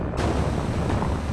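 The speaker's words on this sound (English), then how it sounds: "The explosion is gigantic," Explosion sound effect for colliding neutron stars: a sudden loud onset that swells into a dense, sustained roaring rumble with no voices.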